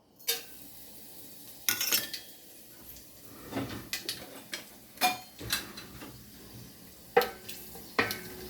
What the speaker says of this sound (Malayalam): നെയ്യ് ചേർത്തതിന് ശേഷം അല്പം ഗ്രാമ്പു ഏലക്കാപ്പൊടി പെരുംജീരകം